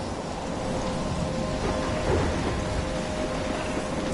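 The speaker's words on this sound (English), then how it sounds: "I'm trapped in a storm?" Heavy rain pours steadily in a video game thunderstorm near a lighthouse, with a dense, loud hiss and a brief rumble of thunder swelling midway.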